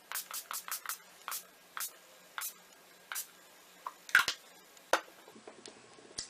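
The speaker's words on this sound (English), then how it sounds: "I'm using Urban Decay's D-Slick Makeup Setting Spray." A series of short, crisp bursts of Urban Decay De-Slick makeup setting spray, several quick ones in a row, then spaced-out single pumps, close and fairly loud with nothing else around.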